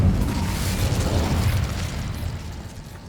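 Hogwarts Legacy's Incendio fire spell goes off with a loud, rumbling, bass-heavy whoosh and burst that decays over about three seconds, with no speech over it.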